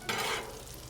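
Red onions cooking in a pan, a brief, close burst of sizzling and stirring that fades slightly over a second.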